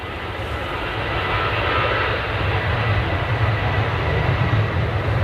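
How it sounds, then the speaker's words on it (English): A Ryanair airliner arriving at Manchester Airport: a loud, steady jet engine roar with a deep low rumble, sustained throughout without pause, no talk over it. "And we have our next Ryanair."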